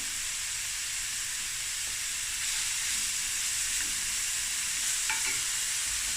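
Onions stir-fried in a pan until golden brown give a continuous close sizzling hiss with faint stirring scrapes and no talk.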